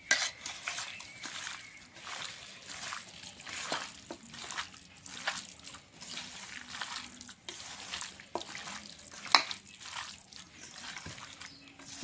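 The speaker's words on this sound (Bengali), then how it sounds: "এখন মেখে নেব মাংসটা ভালো করে।" Chicken meat being mixed by hand with mustard oil, a soft wet squelching and slapping in steady rhythmic strokes, close and fairly quiet, with no talking.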